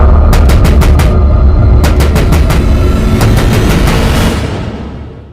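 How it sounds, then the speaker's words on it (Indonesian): Loud knocking on a door or window at night: three rapid bursts of sharp knocks over a heavy, rumbling dark background that fades out at the end. "Tiba-tiba, suara ketukan itu kembali terdengar dengan sangat keras."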